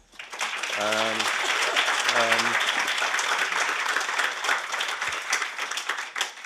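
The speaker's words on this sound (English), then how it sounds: "So please applaud for the panel." An audience at a workshop applauds its panel, building quickly into sustained clapping that holds for several seconds, while a voice briefly speaks over it early on.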